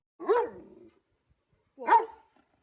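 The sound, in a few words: dog barking with an intense, deep bark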